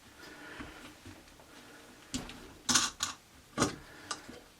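Pliers trim off the end of wrapped flying-line wire for a control line model aircraft, giving several sharp close snips and ticks in an uneven cluster against a quiet background.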